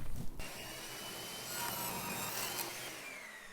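Saw cutting the end of a wooden board for a compound mitered corner of a butler's tray, a steady whirring, rasping cut lasting a few seconds, moderately faint, with no talking.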